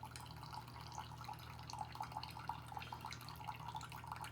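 Dark roast pour-over coffee drips through a Starbucks drip filter in a kitchen. Faint, rapid trickling and small droplet patters run continuously over a low steady hum.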